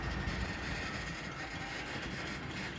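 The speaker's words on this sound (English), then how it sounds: "Train's moving now." A loaded coal train in Mount Hope starts rolling on the rails, a low rumbling mass of wheel and car noise, steady and close, with no talking.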